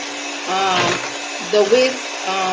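An electric stand mixer whirs on medium speed with its whisk attachment beating homemade whipped cream for a strawberry shortcake cake, a steady close motor drone with slight pitch shifts, while a person talks over it.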